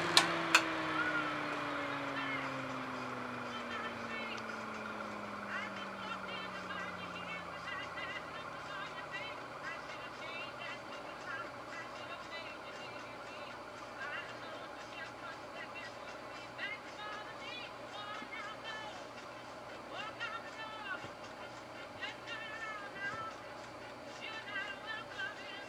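EBM W25107-AD21-43 120mm all-metal 120VAC cooling fan switched off after a click, its whirring tones sliding steadily lower as it spins down over a long time, quiet and close, fading into faint background noise.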